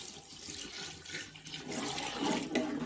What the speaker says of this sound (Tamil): இந்த டைமில் நம்ம அளவு தண்ணி ஊற்றிக்கலாம்.